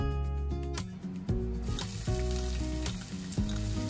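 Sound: ginger and garlic frying in hot refined oil

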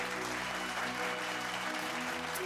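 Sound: audience applause

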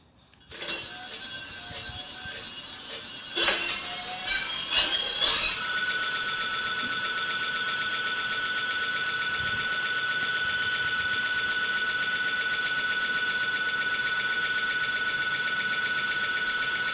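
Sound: 60V 600W electric motor running during speed test

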